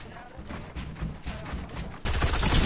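Enemy gunfire in Fortnite: a stretch of muffled, repeated shots, then a sudden louder, sustained burst of firing at the end.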